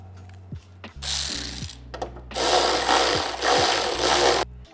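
A ratchet tool fastening a bolt on a 2021 Ford Bronco fiberglass panel, close and loud, with a brief whir, then a longer buzzing run broken by a few clicks and knocks.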